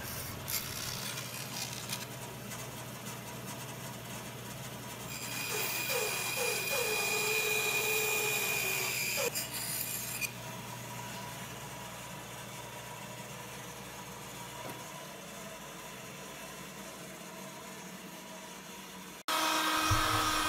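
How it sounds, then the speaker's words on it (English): A bandsaw running with a steady motor whine while it cuts through wood pieces, one louder cutting pass rising over the hum midway, close and with no talking. "I'm cutting these out on the bandsaw, although just about anything will work."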